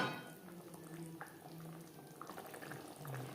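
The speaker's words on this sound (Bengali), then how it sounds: "গ্রেভির সাথে মাছ আরও তিন চার মিনিট রান্না করব" Tilapia fish curry simmers gently in its gravy in a pan, a faint soft bubbling and occasional quiet pops close by, with no talking.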